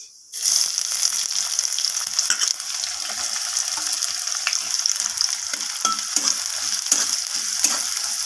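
Chopped onion fries in oil over a tempering of spices for dal, a sudden sizzle surging in and holding steady, broken by intermittent scraping strokes of stirring, close and unaccompanied by speech.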